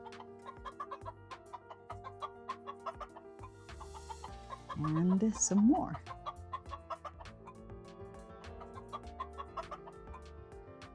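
Backyard chickens clucking at close range, a steady run of short, rhythmic calls with one louder burst near the middle, while a person speaks briefly over them.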